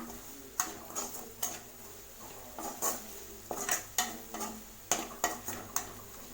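Masala powders sautéed in a pan for a chapati kurma, with repeated sharp scraping and clinking strokes of a spoon against the pan over a low, steady sizzle, close and fairly quiet.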